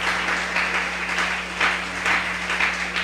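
A church congregation claps together in steady, continuous applause, moderately faint, over a low constant hum and with no talking.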